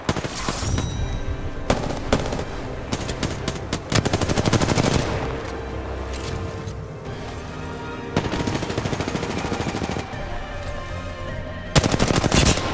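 Rapid automatic gunfire in the battle royale video game Apex Legends, loud sustained bursts of machine-gun shots broken by brief pauses, close and continuous with no talking over it.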